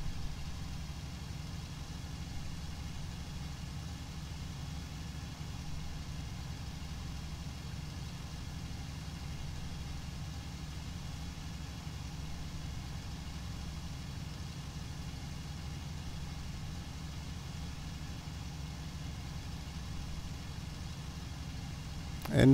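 A Bf 109 E-3 fighter's engine drones near full RPM in the IL-2 Cliffs of Dover flight game, a steady low, even hum holding unchanged throughout with no break.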